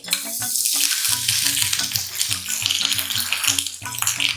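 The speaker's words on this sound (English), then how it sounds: "little bay leaf, star anise, ginger and cloves 3 to 4 and curry leaf. These are the ingredients I am going to fry" Bay leaf, star anise, ginger, cloves and curry leaves fry in hot oil for a South Indian dish, giving a steady, close sizzle that runs unbroken throughout, with a tonal background layer beneath it.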